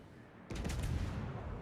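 Heavy naval gun salvo from the Alaska supercruiser in World of Warships, a single sudden boom that swells into a loud, rumbling roar and holds steady, with no voices.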